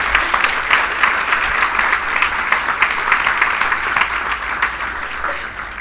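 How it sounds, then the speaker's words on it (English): A school audience applauds the middle school Character Academy at a leadership and service event, dense steady clapping from a sizable crowd that holds for several seconds before easing slightly. "please, another round of applause for the Character Academy"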